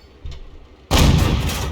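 A tank shell explodes in an online tank battle game: a muffled thump, then a sudden loud blast that holds as a rumbling roar of debris and echo, with no speech.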